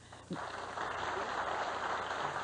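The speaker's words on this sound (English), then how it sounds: "a little bit of applause for that" Studio audience applause on a 1991 daytime talk show, a broad steady wash of clapping that swells in after a brief pause and holds at moderate level without speech.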